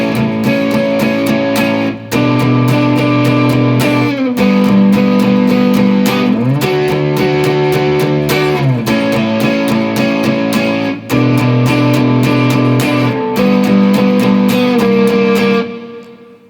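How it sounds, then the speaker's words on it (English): Electric guitar chorus run through an MXR Timmy distortion pedal, loud sustained distorted chords strummed in a steady rhythm with changes every couple of seconds, ringing out at the end. "I'm just using an MXR Timmy pedal for some distortion."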